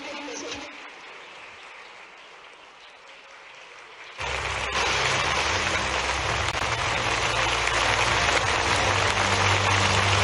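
Loud applause breaks out from a large audience at a government ceremony in Bhopal, rising abruptly after quieter ambience and continuing steadily as dense, rain-like clapping.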